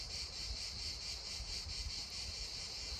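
Cicadas at Massif du Cap Garonne give off a steady, dense, high-pitched buzzing drone that pulses slightly and holds at an even level throughout, with no voices.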